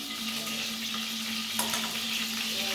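Garlic frying in a pan, a loud, constant crackling sizzle that fills the whole short moment, with a faint clink of the pan near the end and no voices.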